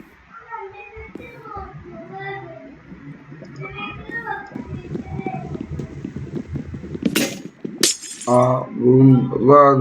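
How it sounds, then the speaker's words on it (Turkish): Glass shatters in a Minecraft game, two sharp crashes followed by tinkling pieces, loud over someone talking throughout. "Cam kırıldı."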